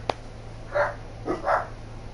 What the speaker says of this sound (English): my German Shepherd that doesn't know how to not bark.